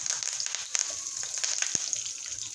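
Mustard seeds, cumin and curry leaves crackle in hot oil for tempering, a steady close sizzle peppered with sharp pops and one louder spit near the end.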